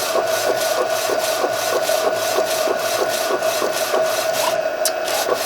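A Procolored K13 Lite printer attempts a print, giving off a steady mechanical hum with a regular rhythmic rubbing and rasping from the moving print carriage, loud and continuous with no voices.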